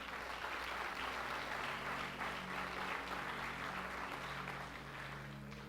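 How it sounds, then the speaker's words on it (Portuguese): Sustained applause from a church congregation during a Portuguese-language sermon, a dense steady wash of clapping that fills the whole stretch and eases off slightly near the end, with a low hum underneath. "Então aplauda mais uma vez, seu Senhor."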